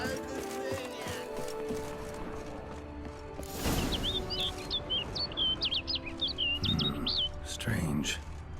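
Bird chirps from The Witcher 3: Wild Hunt, Blood and Wine, a run of quick bright tweets heard late in the scene over game ambience, with hoofbeats and speech heard around them.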